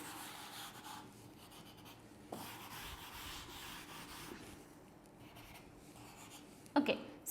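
A cloth or eraser rubs steadily across a classroom board to wipe off writing, with a soft, continuous scrubbing interrupted by a brief knock and ending in a couple of louder scuffs.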